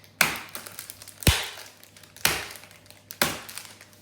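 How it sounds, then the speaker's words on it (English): Dark chocolate snapped into chunks by hand in a home kitchen, giving four sharp cracks spaced about a second apart, close and clear with quiet rustling between them. "I'm going to break up my dark chocolate into different chunks in smaller pieces"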